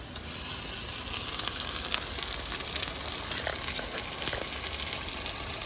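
Ginger garlic paste sizzles in hot oil with a close, continuous hissing fry and scattered sharp crackles and pops throughout.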